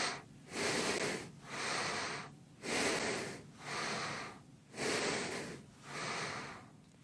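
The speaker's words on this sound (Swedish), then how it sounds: "Och vi andas genom näsan." Slow, steady nasal breathing during a morning yoga session, each inhale and exhale a broad rushing sound in an even rhythm of about one breath per second, close and clear with no talking.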